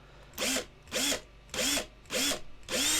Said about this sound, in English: you don't want to let go of the hand when you're drilling, because otherwise it will rotate